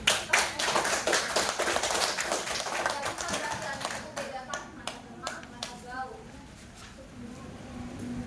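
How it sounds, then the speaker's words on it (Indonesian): A classroom of children clapping their hands, a dense burst of claps that thins into separate taps and fades over several seconds, with a voice speaking near the end. "tepuk tangan dulu lah"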